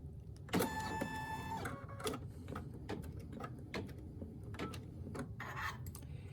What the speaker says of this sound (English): I'm getting ready to do my placement stitch.